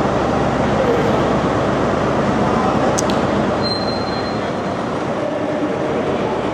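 Steady, loud rumble of trains idling at a station, with a broad hum filling the space and a brief high whine partway through.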